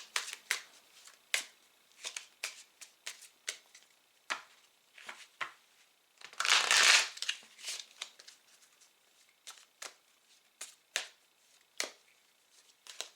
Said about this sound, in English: we're going to cut the deck once, twice, 3 times, and gather.